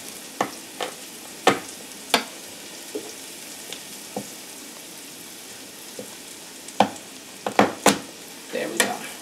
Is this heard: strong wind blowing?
no